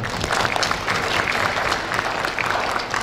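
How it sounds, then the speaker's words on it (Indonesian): A graduation hall audience applauds for the speaker's wife, a full, steady round of clapping from many hands that continues throughout without talk. "Boleh tepuk tangan buat istri saya"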